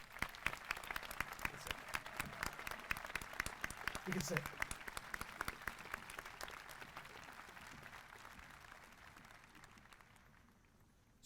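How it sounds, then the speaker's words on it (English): Audience applause at a Denison University class of 2023 college induction ceremony: dense, sustained clapping from a large crowd that gradually thins and fades toward the end, with a brief spoken voice partway through. "Can we give them a round of applause?"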